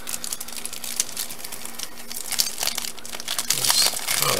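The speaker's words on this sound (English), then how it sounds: "Then we open the deck." Plastic wrapping crinkles and tears as a Magic: The Gathering Kalamax commander deck is unwrapped. The crackling is close and continuous, growing louder and busier in the last second.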